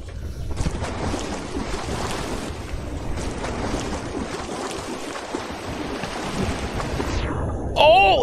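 Splashing, rushing water from the video game Lethal Company, a steady broadband wash that fills the whole stretch at an even level, with a brief tonal blip near the end.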